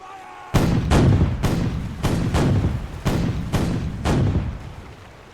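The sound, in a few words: cannon salvo from brig sloop in video game The Weather Gage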